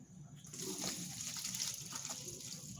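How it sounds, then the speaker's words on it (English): Steady rushing water pours and splashes continuously as spaghetti is drained into a strainer in a sink, with faint movement sounds mixed in. "so I'm draining the spaghetti"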